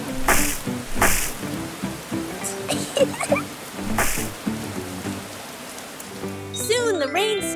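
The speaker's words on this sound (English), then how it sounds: "The rain fell pitter-patter, forming big puddles all over the ground." Animated rain falling pitter-patter into big puddles on the ground, a soft patter mixed with scattered drops and bits of music, ending with a brief musical flourish.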